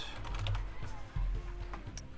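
Fingers tap on a computer keyboard in a short run of light, quick keystrokes, close up over a low background hum.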